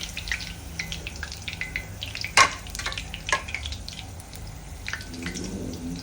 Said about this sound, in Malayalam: ആദ്യം തന്നെ നമ്മൾ കുറച്ച് കരിവേപ്പിലയും, പിന്നെ പച്ചമുളകും, പിന്നെ വെളുത്തുള്ളി തോലോട് കൂടിയിട്ടുള്ളതും ഫ്രൈ ചെയ്തെടുക്കും.